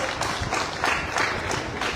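Delegates applauding at a Model United Nations event in a hall, a brief burst of steady crowd clapping at even loudness with no voices on top.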